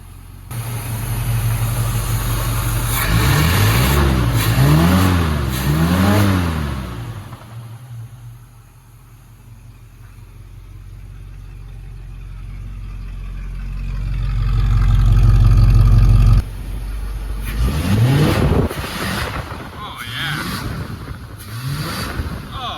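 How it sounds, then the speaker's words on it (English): An old pickup truck engine, a cheap truck being brought back to running, revs cleanly in several rising and falling bursts, drops to a quiet idle, then revs up again, close and loud. "But it has a clean rev finally."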